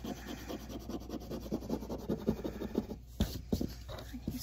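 Close, quiet rhythmic scratching and rubbing of a fingernail working damp paper off an old wooden shutter in short repeated strokes.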